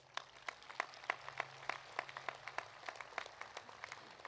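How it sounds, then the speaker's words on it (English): Sparse, faint clapping from a high school graduation audience, with individual claps landing in a loose, fairly regular rhythm and heard from a distance against a low, steady hum. "Let's give them all a round of applause."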